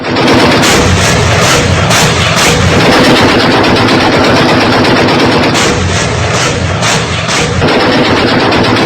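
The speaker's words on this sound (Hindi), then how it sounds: "पाकिस्तान ने तोपें लगा दी और तोपों से गोले दागे गए।" Artillery guns firing shells during fighting between Pakistan and Afghanistan, a dense, loud barrage of booms and rapid gunfire with roaring, crowd-like noise throughout, continuous and overwhelming.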